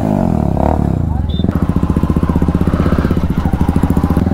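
A motorcycle engine starts up and settles into a steady, close, rhythmic idle-to-rev chug as a ride begins, loud and continuous after a brief clatter at the start.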